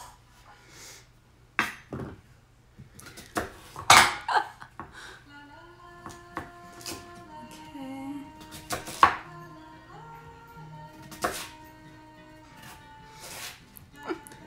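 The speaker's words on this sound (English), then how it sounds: "I'm just gonna chop up these sweet potatoes." A knife chops sweet potatoes on a board in a home kitchen, with irregular bursts of sharp thuds spaced by pauses while music plays quietly in the background.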